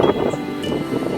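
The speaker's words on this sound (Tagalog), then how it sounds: "Lakas ng hangin." Strong wind gusting outdoors, buffeting the microphone with a loud, uneven rush and rustle across a short stretch, with no clear voices.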